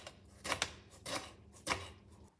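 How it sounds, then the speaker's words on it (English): Knife slicing cabbage, carrot and apple into tiny pieces for a cabbage salad, heard as three soft, separate cutting strokes with faint background hiss. "I'm going to be slicing them just tiny"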